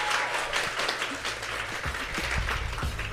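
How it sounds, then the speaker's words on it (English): An audience at a live women-in-media podcast taping applauds for Saroya Tinker, with dense, sustained clapping that is loud and close throughout and carries no speech. "Big round of applause for Saroya Tinker."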